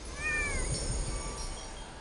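A cat meows in the Genshin Impact video game, a short rising call with harmonic overtones that repeats faintly, heard alone over quiet background music.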